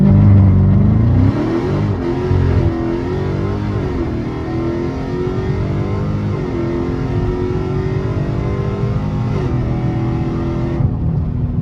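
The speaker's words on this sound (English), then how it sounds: "you gonna wanna launch the car at 1800." A car with a 392 engine revs, then launches at 1800 rpm in a roll race and pulls hard, its pitch climbing through a steady accelerating drone with shifts in tone, no talking.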